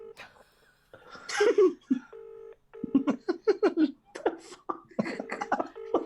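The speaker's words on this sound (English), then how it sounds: "It's ringing." A telephone line rings through an earpiece, with repeated tones in short bursts while people talk and chuckle quietly nearby.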